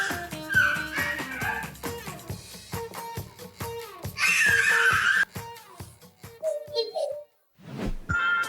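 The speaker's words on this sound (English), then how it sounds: "This Malinois is on duty" A Belgian Malinois dog gives repeated short barks and yips alongside a voice, with laughter and other sounds mixed in, close and lively.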